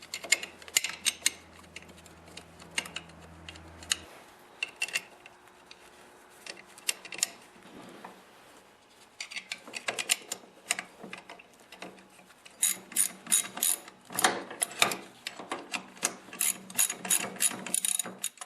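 Ratcheting wrench clicking in bursts while tightening bolts on an Ariens snowblower friction disc, with metallic mechanism clatter from turning the wheels; close and fairly loud, no talk.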